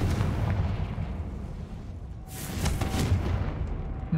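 A Confringo fire spell cast in the Hogwarts Legacy video game bursts out as a loud fiery blast over ongoing rumbling combat noise, swelling midway and carrying on for several seconds.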